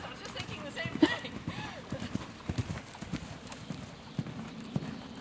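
Horse cantering in a western riding lesson, hooves thudding in a rhythmic three-beat pattern, moderately close, with people talking over it.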